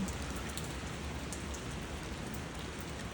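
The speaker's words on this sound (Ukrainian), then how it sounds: "Злива." Steady, heavy rain pouring down nonstop in Varna, Bulgaria, a dense hiss of drops drumming on surfaces close by, with no voices.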